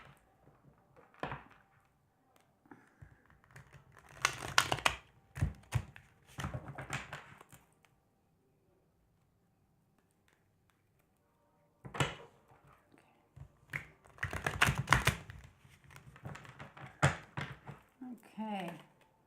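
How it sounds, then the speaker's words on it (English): Tarot cards riffle and slap in short bursts of crisp, papery shuffling, close up and fairly quiet, separated by pauses and brief talk. "a couple more shuffles and we'll get going"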